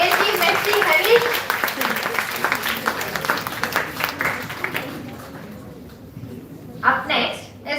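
An audience at a college intramural stage event cheers and applauds loudly, a dense wash of clapping and voices that gradually thins out, with a short final burst of claps.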